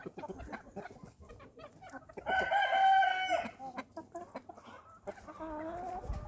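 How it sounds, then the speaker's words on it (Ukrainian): Small chickens cluck and peep in quick bursts nearby, with one louder sustained call in the middle; the setting is otherwise fairly quiet. "Ох, вони смішні ці кури малі."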